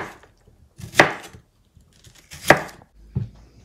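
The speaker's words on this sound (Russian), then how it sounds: "так примерно нарезаем наш лук" Knife chopping an onion into slices on a board while cooking, two sharp distinct chops with softer cutting sounds between and a final lighter cut, close and clear with no talk.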